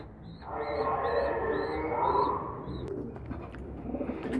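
Homing pigeons at a pigeon auction in Damietta, with a short series of soft, repeated coos and a low, rolling murmur close by.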